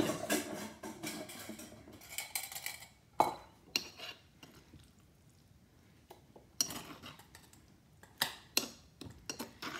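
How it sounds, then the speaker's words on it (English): A spoon scrapes and clinks against bowls as guacamole is scooped into a larger bowl, irregular clattering strokes and taps, close and fairly quiet, with no talking. "So I'm just gonna scoop this into a larger bowl"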